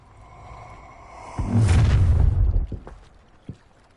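A disarming spell is cast in the video game Hogwarts Legacy. It is one loud, rushing magical blast that swells and roars for about a second, then fades with a faint crackle and a small thud.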